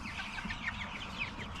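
Young chickens out on pasture cluck and peep in a steady, overlapping chatter, a small flock fairly close and moderately loud with no one talking.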